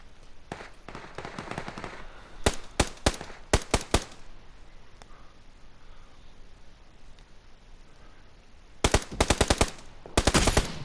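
Gunfire from a bolt-action sniper rifle in the video game PUBG: sharp, loud cracks arrive in short clusters with quiet gaps between them, and a final rapid burst near the end.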